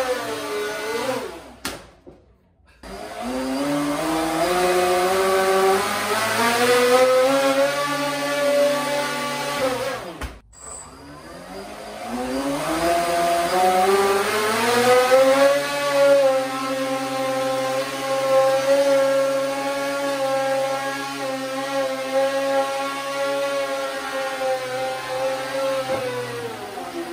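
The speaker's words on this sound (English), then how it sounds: "one motor spools up to full throttle and the other spools down quite a bit" Electric motors on a radio-controlled SpaceX Starhopper model whine continuously, their pitch sliding up and down as they spool between throttle settings, loud and close with two brief cutouts early on.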